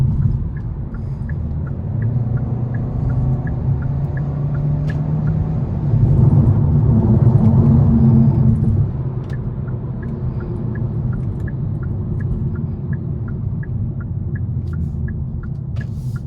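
A 2020 Hyundai Sonata cruising on the road in sport mode, a steady low tire and engine rumble that swells briefly while cornering, with faint regular ticking throughout.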